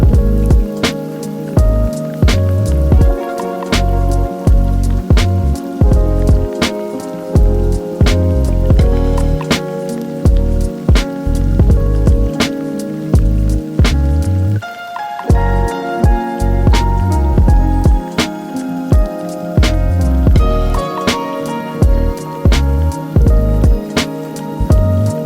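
Rain patters loudly on the roof of an RV, a dense close drumming of drops with irregular heavier hits that carries on steadily throughout, with no voices.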